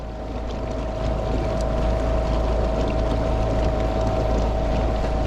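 A Newport NT30 electric outboard motor drives a Jonny Boats Bass 100 kayak at full throttle, giving a steady, even whine with a constant tone, over continuous water rush and light wind noise with no talking.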